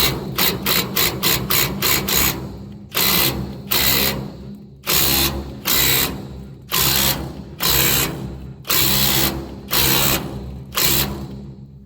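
A wrench ratchets on a seized trailer leaf-spring slipper bolt (13/16 head, 7/8 nut): fast rapid clicks first, then repeated loud bursts of ratcheting strokes, close and with no talk.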